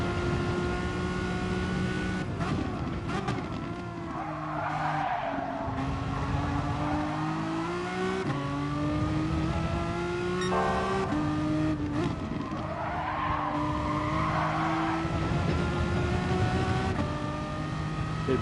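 A race car lapping a circuit in a racing video game, its engine revving up and dropping through repeated gear changes, with brief tire squeal and curb rumble, loud and continuous throughout.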